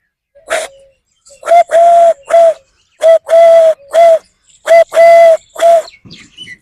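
A man mimics a dove's cooing with his voice in about nine short, hollow, evenly spaced coos. The sound is loud and close, with near silence between the phrases.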